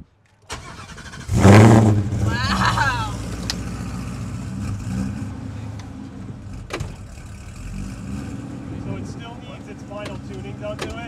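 Foxbody Mustang DOHC build engine cranking and catching, then a loud rev that settles into a rough, lumpy idle. People speak faintly in the background.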